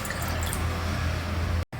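Water poured into a kadai from a vessel, a steady close splashing stream lasting a couple of seconds before cutting off abruptly.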